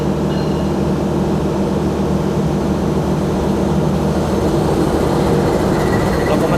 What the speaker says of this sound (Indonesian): kita tunggu lokomotif kereta api Argo Muria tambahan dulu di Langsir dan dirangkaikan ke rangkaian kereta api Argo Muria tambahan